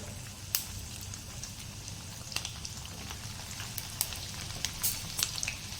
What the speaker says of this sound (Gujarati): તેલ થોડું ગરમ થાય એટલે આપણે તેમાં ભીંડાને ઉમેરી દઈશું.